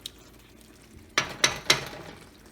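Sloppy joe mixture in a pan on an electric stove, stirred with a utensil: three sharp scraping clatters against the pan over a faint, steady simmer, fairly close.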